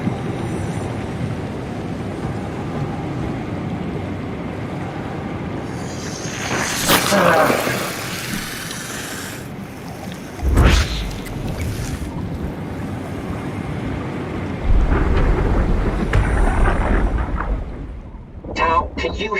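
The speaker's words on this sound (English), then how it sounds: "How is there a storm under the ocean" Rumbling underwater storm ambience in the sci-fi horror video game SOMA, with a continuous deep wash of water and wind-like roar that swells in several louder surges and a sharp crack midway, no talking.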